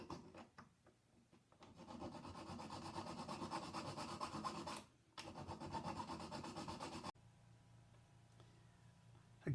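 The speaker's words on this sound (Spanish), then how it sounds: "Y vamos buscando cómo pulir la parte interna de la argolla." The inside of a soldered metal ring is polished with a steady rubbing, rasping stroke that runs continuously for several seconds, breaks off briefly, resumes, then gives way to a quieter hum; no one speaks.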